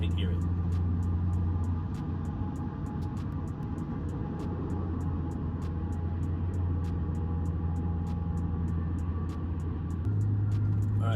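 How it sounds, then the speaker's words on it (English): Inside the cabin of a car fitted with a Magnaflow exhaust, cruising without accelerating, a steady low engine drone and road rumble stays constant at moderate level. "This is gonna be just me cruising, not accelerating."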